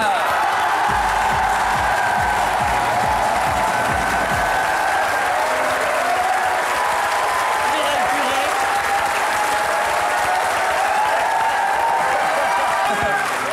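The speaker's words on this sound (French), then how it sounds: "Je vous demande d'applaudir Monsieur Steven Seagal." An audience applauds loudly and continuously to welcome actor Steven Seagal, dense clapping with scattered cheers and whoops, while a voice talks over it.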